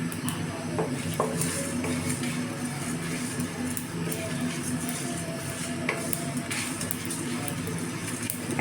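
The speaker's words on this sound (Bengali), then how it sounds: "এটা আস্তে জালে একটু ভেজে নিতে হবে" Spices for mango pickle frying gently in oil over a low flame, a soft continuous sizzle with occasional light stirring scrapes and clinks.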